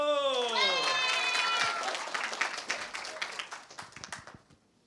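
Crowd clapping at a winter camp teen concert, opening under a voice before turning into steady applause that gradually dwindles to a few scattered claps.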